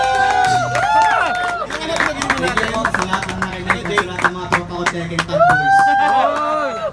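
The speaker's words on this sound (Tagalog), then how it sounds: "Palakpak kayo po na! Palakpak!" An audience at a Tekken Tag Tournament gaming event claps in scattered, uneven bursts beneath loud, excited talking and crowd chatter.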